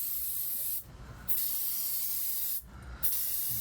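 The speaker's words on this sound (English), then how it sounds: "just gonna spray the whole thing." Contact cleaner aerosol sprayed onto a boat's electrical switch makes a steady, close hiss that runs as long bursts, cut by two short pauses.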